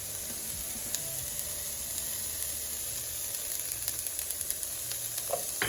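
Bitter melon and cashews with turmeric, coriander, chili powder and sugar sizzle softly in a pan over a medium flame, a steady close hiss with faint stirring clicks and no talking.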